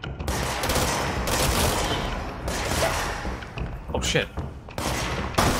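Rapid gunfire in the video game Control, dense bursts of shots in several volleys broken by short pauses, loud and close, with a brief spoken exclamation partway.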